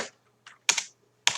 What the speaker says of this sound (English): I'm probably typing too quick